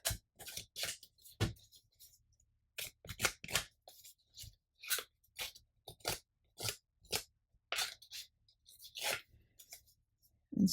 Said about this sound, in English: Now I'm going to distress these a bit to just rough them up a bit before I glue it down.